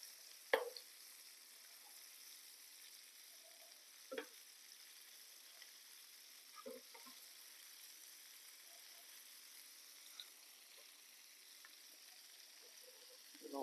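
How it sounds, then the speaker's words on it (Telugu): Tuna kabab pieces fry slowly in butter with a faint, steady sizzle, broken by a few soft clinks and scrapes as they are turned in the pan. "మినిమం ఒక 10 మినిట్స్ అలా ఫ్రై చేసుకుంటే టూనా పీసెస్ని అన్ని పక్కల ఫ్రై అయ్యేటట్టు నిదానంగా"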